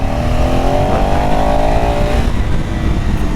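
A KTM Enduro 390 motorcycle engine revs hard as the rider accelerates, its pitch climbing steadily, loud and close over heavy wind and road noise, then easing off near the end.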